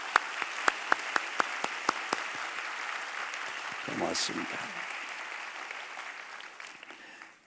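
A church congregation claps during a Sunday service, starting with a few sharp, evenly spaced claps that swell into a soft, sustained round of applause, with a brief spoken thanks partway through before it fades out.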